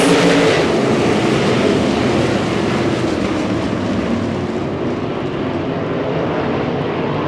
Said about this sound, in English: Here come the Lucas Oil POWRi 305 Wings Sprint Cars.